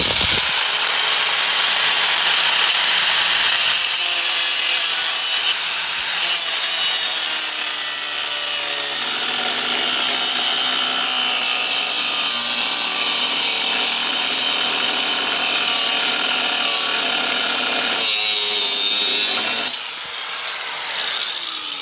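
Angle grinder cutting through the sheet metal of a Chevy/GMC truck door, a loud continuous high-pitched grinding whine held for about twenty seconds with slight shifts in pitch as the disc bites, with no talking.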